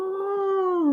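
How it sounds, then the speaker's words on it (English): Sleeping dog gives one drawn-out, tonal vocal moan that holds a steady pitch and then dips at the end, loud and close in an otherwise quiet room. "Somebody's growling in their sleep."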